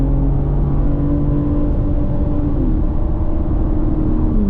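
A BMW M3 engine holds on the throttle on the Indianapolis Motor Speedway road course. The drone is loud and steady, with a slowly rising pitch that shifts near the end, and no talk.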